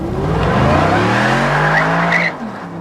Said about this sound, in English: what really I want you to focus on when we're driving is just the sheer braking performance of the car.